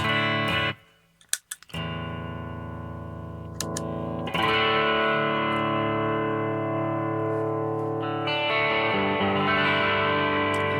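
Distorted electric guitar chords ring out through a JSA Effects Lamp Lighter overdrive pedal with a mid-heavy tone, a brief pause and a few muted hits, then sustained saturated chords that swell and change.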